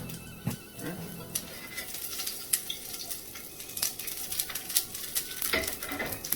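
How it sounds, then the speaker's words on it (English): Asparagus from a bundle sautes in a hot pan, a steady sizzle under scattered clinks and scrapes of a utensil stirring and tossing against the metal, close and moderately loud. "So when you are sauteing, you can season at the beginning."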